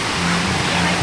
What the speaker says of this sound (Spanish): ahí sigue el río, miren